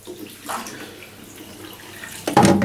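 A whiskey glass scoops water out of a toilet bowl, making soft splashing and trickling sounds with a louder slosh as the glass dips in near the end, heard close up with no talk.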